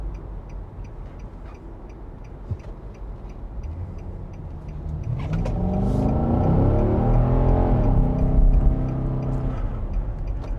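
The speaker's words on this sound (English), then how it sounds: "the sound of this V8, this quite old-fashioned V8, is glorious" A 2024 Nissan Patrol Warrior's old-fashioned V8 idles with a ticking indicator, then accelerates through its seven-speed automatic, its deep rumble swelling and climbing through the gears, loud and close.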